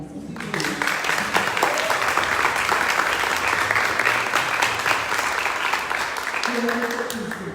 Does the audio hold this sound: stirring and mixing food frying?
no